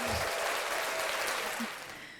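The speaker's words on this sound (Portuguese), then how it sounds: "Manu merece palmas" Applause from a studio audience on a Brazilian talk show, a dense wash of clapping that stays loud throughout before easing slightly at the end.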